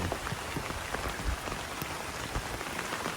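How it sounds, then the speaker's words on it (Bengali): Heavy rain pours steadily onto surfaces nearby, a dense, even patter of drops with no voices and no break throughout. "কালকে বিকাল থেকে যা বৃষ্টি হচ্ছে"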